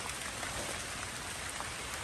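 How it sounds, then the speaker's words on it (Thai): Rain falling steadily in a rural outdoor setting, a dense, even hiss of drops hitting surfaces, close and continuous with no voices. "ฝนตกครับ"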